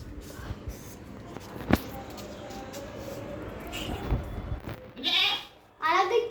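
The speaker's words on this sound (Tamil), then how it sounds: "அம்மா கத்துது கைஸ், நம்ம பிரிச்சு அடிப்பிட்டேன்னு" A mother goat bleats loudly for her separated kid, giving two close, strained calls near the end after a stretch of quieter shuffling and farmyard background.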